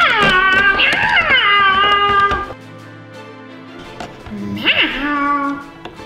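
A voice imitates a cat with drawn-out, wavering meows, two loud calls separated by a quieter pause, in a playful children's toy scene.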